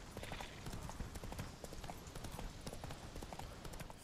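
Steady clip-clop of a horse's hooves at a trot in The Witcher 3, continuous and fairly faint under a dense layer of ambient game sound.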